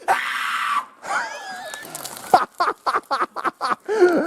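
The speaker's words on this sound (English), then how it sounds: "So on 3, I want you to scream as loud as you can." Outdoors at an off-highway vehicle park, a person lets out a loud, sustained scream, followed by a burst of choppy, shrill vocal yelps and cries, close to the microphone.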